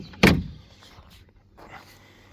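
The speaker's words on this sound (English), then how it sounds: "Tailgate comes down like that." The tailgate of a Can-Am Defender HD10 utility vehicle drops open with one sharp, loud thunk, followed by a faint rattle and near quiet.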